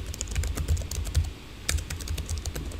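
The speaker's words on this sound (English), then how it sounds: "I'm just typing." Rapid, steady typing on a computer keyboard, close and clear, with irregular key clicks and no talking.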